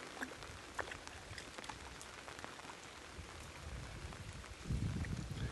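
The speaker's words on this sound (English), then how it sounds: "Just as the rain starts to come down" Soft, steady rain patters on a surface with scattered drop ticks in the Florida Everglades, growing heavier and louder near the end, with faint wind.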